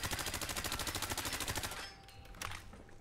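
Automatic fire from an AS VAL rifle in a Fallout 4 mod: a rapid, even stream of shots at about ten per second for nearly two seconds, stopping abruptly and leaving quieter mechanical and ambient tails.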